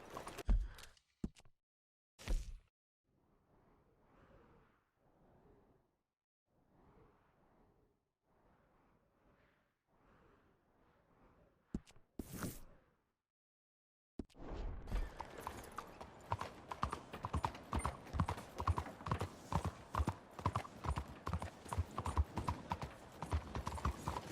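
Horse hooves in the game Red Dead Redemption 2 start as a few sparse clops and soft walking steps, then break into a fast, loud, continuous galloping rhythm for the last ten seconds.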